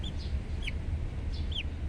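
Backyard chicks about 23 days old give a few thin, high peeping chirps over a steady low hum, spaced apart and at moderate distance.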